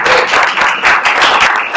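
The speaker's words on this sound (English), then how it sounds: "we'll give him a round of applause" A parish meeting audience gives a short, dense round of applause, many hands clapping together at close range with no voices over it.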